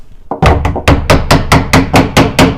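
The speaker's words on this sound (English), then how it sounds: "Then you tap it with a hammer" A hammer taps a piece of an old pine wardrobe into its slot during assembly, giving about ten loud, sharp wooden knocks in a steady, evenly spaced rhythm, close by.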